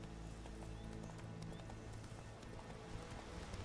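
Hooves of the horse Roach in The Witcher 3 clip-clop in a steady galloping rhythm, loud and close, under a constant rumble of game music and ambience, with no talk.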